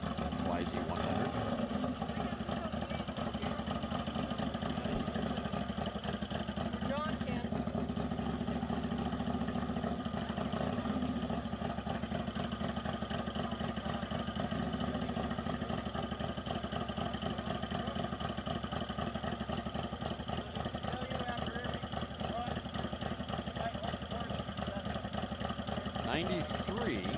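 A Yamaha YZ100 engine runs on a bike at a dry-lakebed speed event, a steady mid-pitched buzzing drone that continues for a long stretch with slight fluctuations, while people talk over it.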